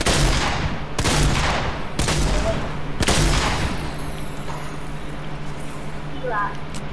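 Video game gunfire in Fortnite comes as several sharp, loud shots about a second apart, followed by quieter game ambience with a faint chirping tone near the end.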